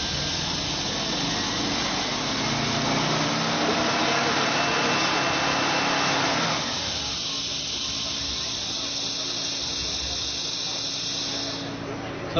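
A ResQtec Octopus pneumatic heavy rescue system hisses steadily as it lowers a load onto cribbing blocks; the rush of air is loud at first, then drops to a softer, thinner hiss partway through.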